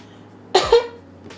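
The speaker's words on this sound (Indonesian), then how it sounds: "kalau kalian batuk, tutup pakai tisu atau pakai siku begini tuh" A single demonstration cough into the elbow, close and sharp, a quick double burst in near silence.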